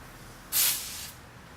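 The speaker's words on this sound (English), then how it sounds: "spray a little bit of lube on it, so make it easier to go into the hole" A single short hissing burst from an aerosol can of lubricant, sprayed during a Ford F-150 cold air intake install, close and loud, fading out after about half a second.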